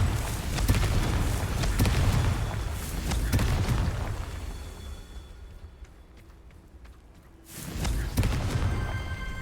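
A Confringo blasting spell erupts in the Hogwarts Legacy game amid loud booming impacts and rumbling combat noise. The din then fades to a quieter lull before heavy blasts return.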